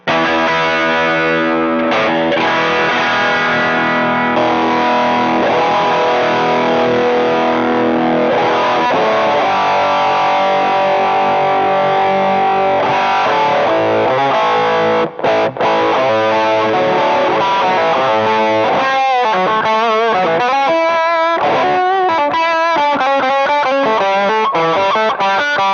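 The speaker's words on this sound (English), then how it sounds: "But it absolutely is a full-blown distortion pedal." Electric guitar played through a Bootlegger distortion pedal, sustained gritty chords and riffs ringing out loud and continuous, with no talking.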